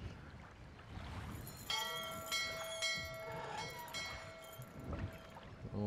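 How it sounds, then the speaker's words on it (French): A large bell in the video game Syberia rings out in several loud, sustained strikes, each tone lingering and overlapping the next over a low rumbling ambience. "On va aller ressonner la cloche."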